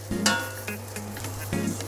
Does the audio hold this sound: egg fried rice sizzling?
yes